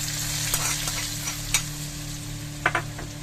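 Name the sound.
hot ghee tadka added to mutton kadai gosht, sizzling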